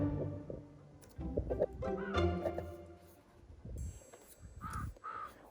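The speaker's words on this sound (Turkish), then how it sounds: "Kargalar ötüyor bir de." Crows caw several times at moderate distance in The Sims 4 video game, harsh repeated calls mixed with some background clatter and rustling, no speech.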